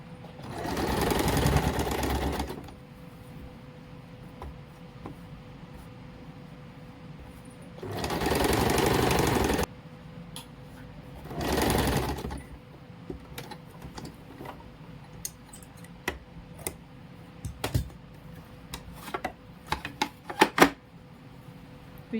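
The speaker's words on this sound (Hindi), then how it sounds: "अब हम नेक को अंदर की साइड फोल्ड करके इस पे एक मोटी सिलाई मार देंगे।" An electric sewing machine runs a thick line of stitching along the folded-in neckline of a suit, in three steady whirring bursts of a few seconds each, separated by quieter fabric handling and clicks.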